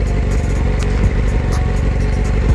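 A motorcycle engine revs hard and steadily at close range as the clutch is popped for a wheelie, giving a loud, continuous mechanical roar with small rattles and clatter.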